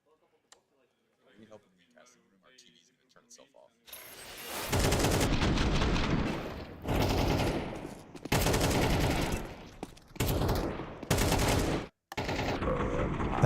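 Counter-Strike gunfire in a BLAST World Final match, loud sustained bursts of automatic fire in several long volleys after a quiet opening with faint talk, a caster talking over the shots.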